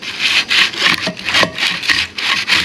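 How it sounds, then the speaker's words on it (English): Muncie 4-speed clutch pressure plate rubbing against the top of a bolt, a repeated scraping, sawing-like grind in regular back-and-forth strokes about twice a second, close and fairly loud with no talk. "It can't freewheel because it is rubbing the bolt."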